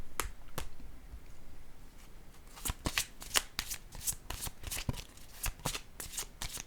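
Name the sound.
shuffling and drawing cards from a deck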